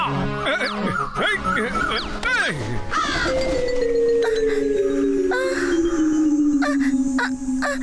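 Cartoon crow cawing loudly in harsh repeated calls over busy animated music and effects, from the Motu Patlu series, with a long descending tone sweeping underneath.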